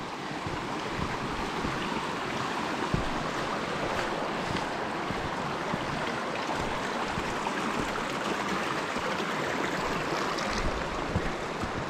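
Water rushes steadily at a creek crossing on a trail in Grand Canyon National Park, Arizona, with a broad, continuous roar and some wind noise. No voices are heard.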